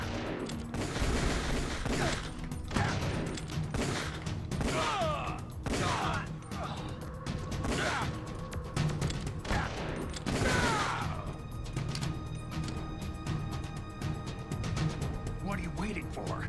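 Gunfire from the video game Metal Gear Solid: The Twin Snakes, loud bursts and rapid volleys repeating throughout, mixed with crashes and clatter, with voices talking over the shooting.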